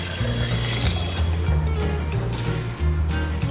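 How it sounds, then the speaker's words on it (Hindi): Water is poured from a bowl into a pressure cooker holding soaked white lobia, giving a steady splashing pour near the mic over a low background hum, with no talk. "उससे 3 कटोरी मैं पानी डाल रहा हूँ"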